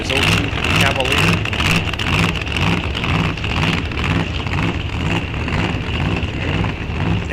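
A 2002 Cavalier drag racing car runs at Rock Falls Raceway during an NHRA National Open, its engine a loud, steady, throbbing drone that holds throughout while an announcer talks over it.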